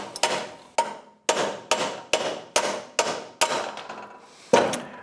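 Hammer blows drive a ball joint out of a 2007 Yamaha YFM700 Grizzly ATV part held in a vise: about eight sharp metallic strikes in a steady rhythm, each ringing briefly, close and loud with no talk.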